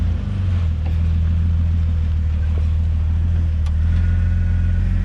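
A Jeep rock crawling over ledges on an off-road 4x4 trail at Big Bear Lake, California: a loud, steady low engine drone that holds for the whole stretch, close up, with no talking.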